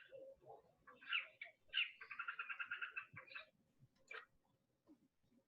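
Carmine bee-eater calling: a series of close, shrill chirps and a rapid trilled run of notes, then one last sharp call, over quiet background.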